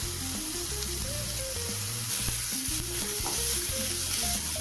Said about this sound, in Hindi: तो चलिए प्याज को भी थोड़ी देर सौटे कर लेते हैं